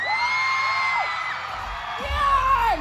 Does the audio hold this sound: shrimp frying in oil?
no